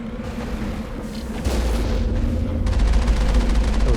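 Cannon blasts and rapid gunfire from a firefight in the video game Mass Effect: dense, booming shots pile up into a steady loud barrage, with rapid machine-gun-like bursts toward the end.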